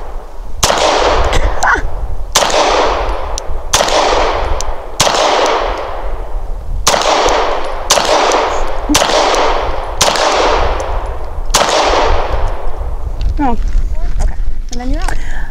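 Langdon Tactical 92 Elite 9mm pistol firing, about nine sharp loud shots spaced roughly a second apart, each ringing out with a short echoing tail, followed by faint metallic clinks at the end.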